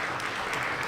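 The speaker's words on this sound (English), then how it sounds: "Clap for that, clap for that, clap for that." Steady audience applause fills the room at a Chicago film festival panel on the diaspora, dense and even throughout with no voices on top.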